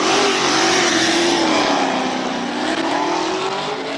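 BMW Z4 fitted with an LS V8 engine on a hill climb run at the Speed Classic in Cape Town roars at high revs, loud and sustained, its engine note shifting as it accelerates past, no talk.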